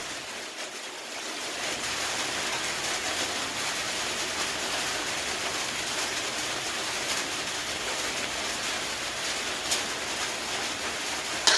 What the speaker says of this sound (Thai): เสียงฝนได้ยินไหมคะฝนตก